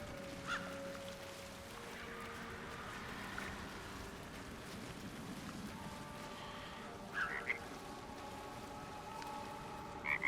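A frog in Baldur's Gate 3 gives a few faint croaks and chirps over steady ambient water and background hum, sparse and soft without voices.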